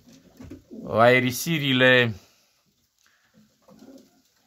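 Pigeons in a cage give a short burst of cooing up close, followed by quiet, with a person speaking briefly at the start.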